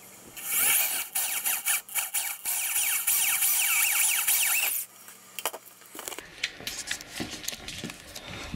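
A power drill boring pilot holes for a tow bar on a 2012 Honda CR-V, with a loud, close, high whining grind running steadily for several seconds, then stopping, followed by softer clicks and handling noises.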